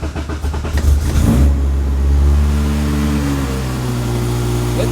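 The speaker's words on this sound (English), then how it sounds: "Car fires right up. Idle's pretty decent" A car engine cranks and catches, revs briefly, then settles into a steady, rumbling idle up close.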